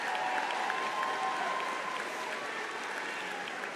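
An audience at a high school graduation claps for students, a steady wash of applause that holds evenly and tapers slightly toward the end.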